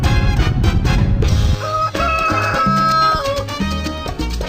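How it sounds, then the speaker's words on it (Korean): Roosters crowing loudly at a chicken farm, several strong calls rising over a dense mix with steady low sounds beneath, no talk. "여행객들을 반기는 우렁찬 울음소리, 닭들의 무릉도원이라고 불리는 한 양계장을 찾았는데요"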